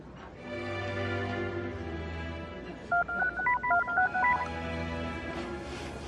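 A series of telephone keypad tones, about eight short evenly spaced beeps, sounds clearly over a low musical background.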